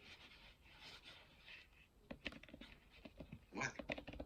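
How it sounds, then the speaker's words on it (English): Typing on the physical Smart Keyboard of a 2019 iPad Air: a run of quick, light key clicks in an uneven rhythm, close by, with a denser flurry near the end over a soft room background. "I can just type on the physical smart keyboard"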